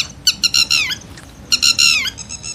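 A lapwing calls in two bursts of sharp, rapidly repeated squawking notes separated by a short pause, loud and close, over a low background rumble.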